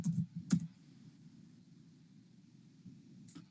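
A few quick computer keyboard keystrokes click at the start, close and crisp, then fade into a quiet background hiss.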